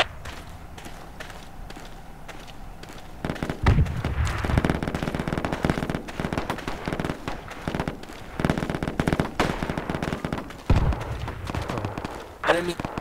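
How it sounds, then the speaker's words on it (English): Rapid machine-gun bursts in the military shooter Project Reality, heard in repeated volleys over a busy battlefield soundscape, with voices talking at times. "I can do machine gun sniping"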